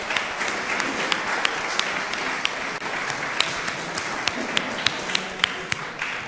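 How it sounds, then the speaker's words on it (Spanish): A crowd at a tribute for the dead, on the Day of the Dead, gives a long round of applause, a continuous wash of clapping broken by a few sharper, louder individual claps close by. "Creo que los que se fueron merecen un aplauso"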